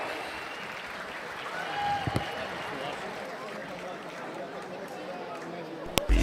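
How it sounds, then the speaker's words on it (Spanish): A cosplay contest audience applauds, a broad, steady clatter of many hands filling the room at a moderate distance, with a few louder knocks near the end. "¡Fuerte aplauso!"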